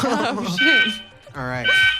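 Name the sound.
fire alarm going off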